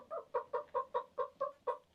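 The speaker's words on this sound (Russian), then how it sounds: "Цыпа, вот это вот ручная наша курочка" A tame hen clucks in a steady rhythmic series of about nine short, close clucks, evenly spaced, with no talking.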